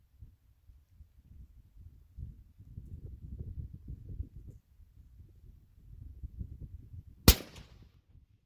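A single sharp rifle shot from a 6.5 PRC fired outdoors, one loud crack near the end after several seconds of quiet low rumble.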